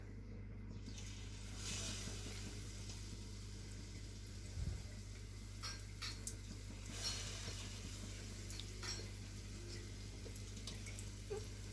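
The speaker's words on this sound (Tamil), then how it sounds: "பாருங்கள், எண்ணெய் காஞ்சிருச்சு. இப்போ நான் கொஞ்சம் கொஞ்சமாக எடுத்து போட்டுக்கிறேன்" Sweet bonda batter dropped bit by bit into hot frying oil gives a faint, steady sizzling hiss over a low constant hum, with no talking.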